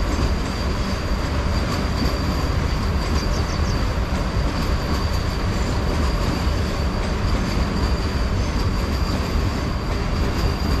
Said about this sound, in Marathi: या ठिकाणी वंदे भारत ट्रेन जात आहे हे आपण इथून पाहूया